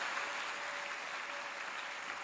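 A church congregation clapping together, a dense, even wash of applause that stays steady and fairly loud throughout, with no voices standing out.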